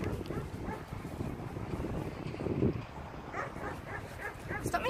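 A small orange dog, out in cold weather, gives a few short yips and whimpers, close and moderately loud, mixed in with people talking nearby.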